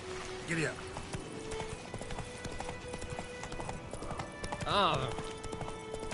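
Rhythmic clip-clop hoofbeats come from Roach, a horse in the video game Witcher 3. Two whinnies break in, a short one early and a louder, wavering one near the end.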